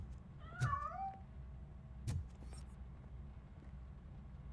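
A cat meows in a video game, one clear drawn-out meow followed by two fainter short calls, heard alone against a low ambient rumble.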